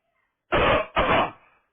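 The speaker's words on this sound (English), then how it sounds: "Just clear my throat." Two quick, forceful throat clearings from a man, one right after the other, close and fairly loud, with silence around them.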